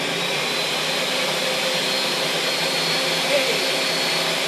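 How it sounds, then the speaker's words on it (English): A blender whirs steadily at close range while making a green detox drink, a continuous motor drone holding level from start to finish with faint voices underneath. "It's just a blender."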